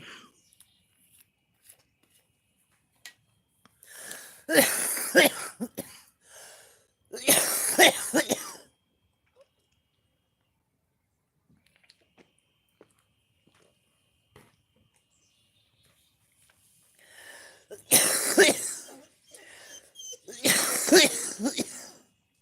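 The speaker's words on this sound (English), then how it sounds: "I go through coughing fits for a while." Harsh, repeated coughing comes in two bouts, each a cluster of rough coughs close to the listener, separated by long quiet stretches.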